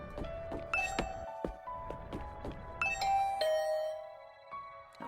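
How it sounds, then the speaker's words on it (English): A doorbell rings inside The Hundred Line: Last Defense Academy, giving several clear, bright chime tones in a ding-dong pattern over faint background music, the last tone fading out at the end. "I rang the doorbell and could hear the bell ring on the other side of the door."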